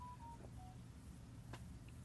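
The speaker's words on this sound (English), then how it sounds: "That was my phone." A mobile phone gives a short electronic tone sequence of brief beeps, then a sharp click, fairly quiet over a steady low background hum.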